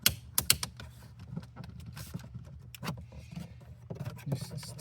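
Plastic door panel clips on a fifth-generation Ram 2500 being pried loose with a trim tool: sharp clicks and snaps at irregular intervals over low rumbling handling noise, close and fairly quiet, with no talk.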